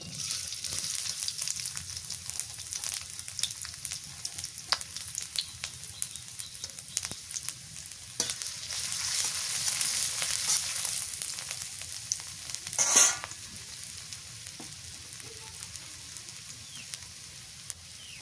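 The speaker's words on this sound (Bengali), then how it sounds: "পেঁয়াজ কুচি দিই।" Chopped onions frying in a pan, a soft, continuous sizzle with scattered crackles and pops and one brief louder burst near the end.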